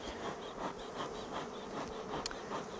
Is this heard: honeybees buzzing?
yes